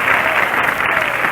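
Brief burst of audience applause at an amateur radio show, a steady wash of clapping with no voices over it.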